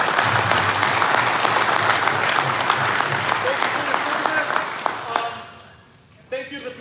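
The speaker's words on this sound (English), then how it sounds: "If we can all give them a huge round of applause." A roomful of people applauds veterans at a paintball tournament rules meeting, sustained loud clapping for about five seconds before it tapers off, followed by a short burst of noise.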